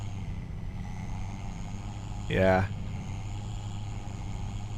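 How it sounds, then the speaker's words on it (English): A truck engine in Farming Simulator 25 runs with a steady low drone, and a voice briefly speaks over it. "I enjoy the engine sound tremendously"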